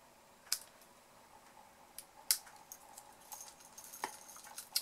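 Scissors snip through ribbon while a small table favour is finished, giving a few sharp, bright cuts spread irregularly over a quiet background, close and fairly faint.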